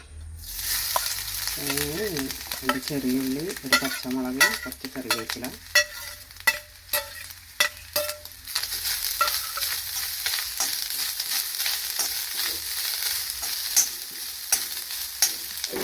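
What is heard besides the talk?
coconut roasting in coconut oil in a pan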